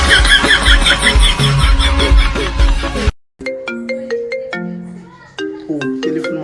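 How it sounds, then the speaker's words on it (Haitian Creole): A mobile phone ringtone plays loud and near, a bright melodic tune of repeating notes that starts after a burst of noisy background sound. "Oh, téléphone m'a sonné."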